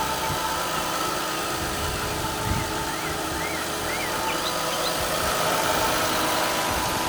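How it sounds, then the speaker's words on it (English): A stock Toyota Aristo twin-turbo engine idles close by, steady and smooth, with an even low rumble and no irregular knocks through the whole stretch. "Everything that you would want from a stock motor to sound like."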